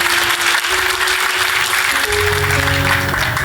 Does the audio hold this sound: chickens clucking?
no